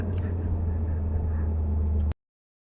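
Porsche Boxster engine revving high above 5,000 RPM, a loud steady droning roar held for about two seconds before cutting off abruptly into silence.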